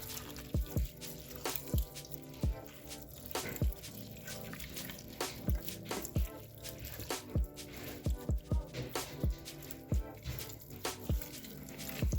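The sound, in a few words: water being poured into a pot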